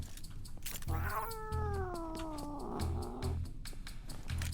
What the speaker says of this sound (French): Il regarde un petit chat.